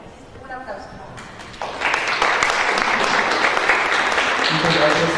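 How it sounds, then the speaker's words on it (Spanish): Audience applause at a cultural festival event at the IPN, rising sharply after a brief quiet start into steady, dense clapping from a crowd, with some voices mixed in. "Un aplauso."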